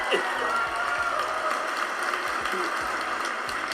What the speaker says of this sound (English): You can cheer for that.